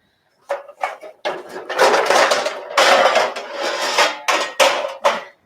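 Loud metallic clattering and banging, a series of sharp bursts as a metal baking sheet is handled and set down, close by with no talking.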